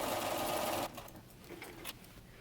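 A sewing machine stitches a mend into denim jeans, a fast, even whirring of stitches heard close up for under a second before it stops and only quiet room sound is left.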